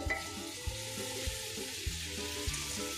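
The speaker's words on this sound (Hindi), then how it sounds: "अब जो मैंने पालक डाली है इसको मैं तकरीबन 10 मिनट तक भूनूंगी" Spinach and potatoes frying in a pan, a steady close sizzle throughout with low, repeating knocks of stirring and no voices.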